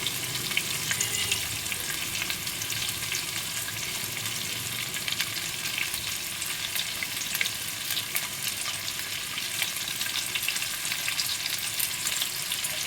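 Boiled pasta being stirred into fried vegetables and spices in a pan, giving a steady, loud, close sizzle with continuous scraping and stirring noise throughout, with no voices.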